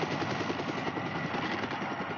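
A helicopter near a remote river island landing site, its rotor producing a loud, steady rhythmic thudding chop mixed with a broad engine roar throughout.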